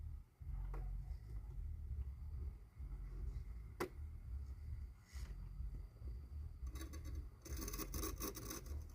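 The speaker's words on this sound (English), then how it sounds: "Hear that metal scraping." An FMS FCX10 K5 Blazer RC truck grinds metal against an obstacle, giving a continuous low rasping scrape with a few sharp clicks and a brighter scratchy burst near the end.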